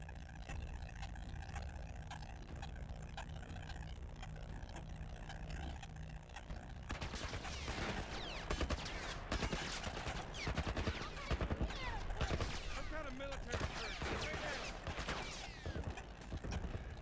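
Bursts of gunfire from The Last Of Us Remastered come in quick, dense rattling volleys over a rumbling game soundscape, loud and close after a quieter opening stretch.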